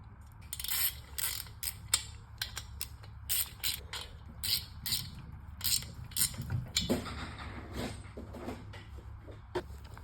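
A ratchet wrench clicks in quick uneven bursts while tightening motorcycle exhaust bolts on a Moster exhaust, close up, with rapid pawl ratcheting repeated over several strokes.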